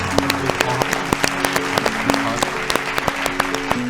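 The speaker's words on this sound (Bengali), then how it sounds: "জোরে হাততালি একবার" An audience at a televised farming quiz contest applauds both teams: dense, steady clapping with sharp individual claps standing out, loud and close, while a faint tonal background of music or hum continues underneath.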